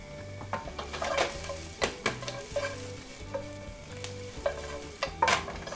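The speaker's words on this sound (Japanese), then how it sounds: "これですね軽くキノコ炒めを作ってあげるイメージですね。" Mushrooms with parsley are stir-fried in a pan for a garlic butter pasta, a soft steady sizzle broken by sharp clacks and scrapes of a utensil against the pan, with no talking.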